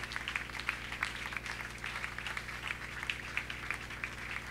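Congregation applauding during a church worship service, a sustained wash of many hands clapping, moderately distant, over a low hum.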